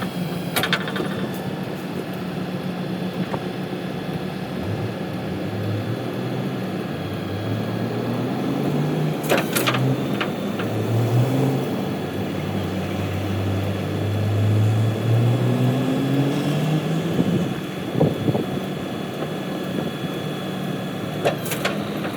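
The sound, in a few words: tow truck lifting its bed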